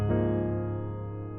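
Full, sustained gospel piano hymn chords voiced with added extension notes, one rich chord ringing out and slowly decaying, played alone with no talking.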